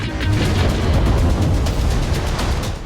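Loud, continuous rumbling blasts and crackling booms overlap in a dense barrage of wartime explosions close by, with no voices.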